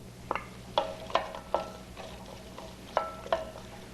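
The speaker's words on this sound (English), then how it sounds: "And what I'm doing is I'm adding the onions." Onions added to hot oil for chickpea curry, with a few close, distinct clinks and taps of a utensil against the pan over a soft, steady background hiss.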